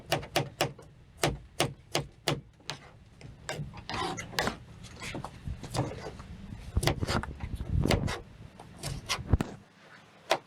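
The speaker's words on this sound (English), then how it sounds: "You slice your tomato according to the way you want to see the shape." A knife slices tomatoes repeatedly on a wooden board, with sharp taps and some scraping and rustling in between, close by.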